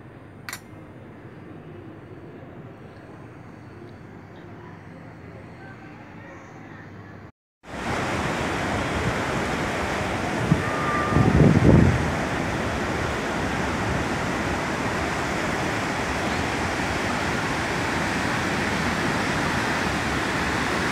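Sea waves roll in at Da Nang beach in Vietnam, a broad steady wash of surf that begins abruptly after a quieter opening, with warm wind buffeting the microphone and a faint voice at times.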